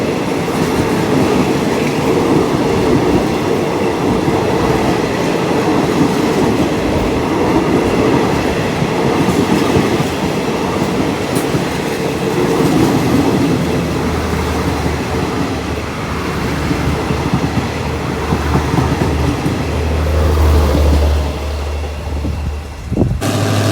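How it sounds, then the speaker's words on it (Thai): Alsthom locomotive 4410 hauling rapid train 171 rumbles past close by. The loud, continuous roar and clatter of wheels on rail lasts throughout, with a low engine drone rising toward the end and no voices. "นำขบวนโดย อันตอมนะครับ 4410 นะครับสำหรับรถเร็วที่ 171 นะครับ"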